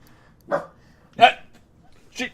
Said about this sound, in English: she does one of those bounce barks like